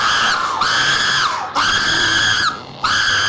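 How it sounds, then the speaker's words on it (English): High, sustained screams in repeated long bursts, one shrill voice wailing with brief gaps between cries, loud and close. "They don't stop screaming."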